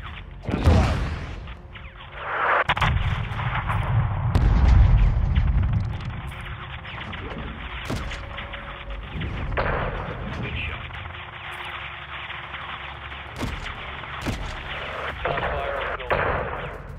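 Heavy artillery fire in the video game Call of Duty: Modern Warfare 2, with repeated booming blasts and sharp impacts over a rumbling mechanical background, while voices talk over radio chatter.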